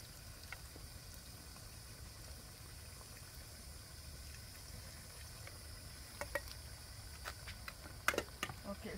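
Shrimp water is poured into a pot of frying jute leaf stew base, sending out a quiet hiss and sizzle broken by scattered crackles and pops that grow livelier near the end.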